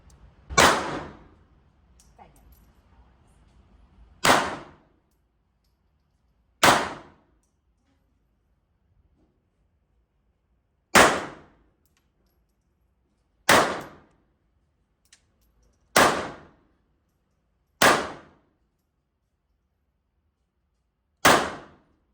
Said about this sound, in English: I'm going to have a brand new shooter try out the 30X Tomcat